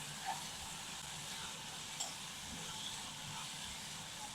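A tomato and cashew mixture sautés quietly in a pan for a creamy pasta gravy, giving a steady, faint sizzle and hiss with a few small pops and no one speaking.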